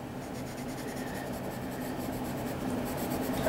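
Colored pencil burnishing across paper, a steady close scratchy rub of pencil on the sheet with continuous soft back-and-forth strokes and no voices.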